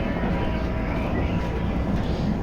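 Interior of a moving train, a loud steady rumble of wheels and carriage noise with no breaks, dense and continuous for a couple of seconds.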